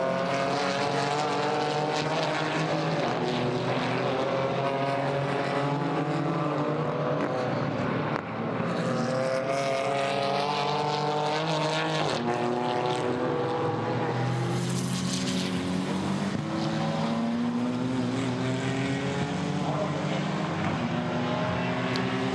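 GT4 race cars at the Nürburgring sprint uphill in a European series race, a loud, continuous roar of engines with shifting pitch as several cars pass, steady throughout with no voices.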